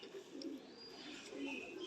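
A breeder pigeon coos softly in low, rolling murmurs, close by, with faint background noise and no talking.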